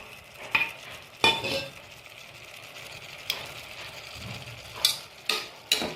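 Ground spinach with coriander leaves sautés in a pan, a faint steady sizzle broken by several sharp scrapes and clinks of a spoon stirring, spaced irregularly.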